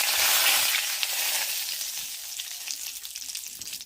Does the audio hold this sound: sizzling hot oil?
yes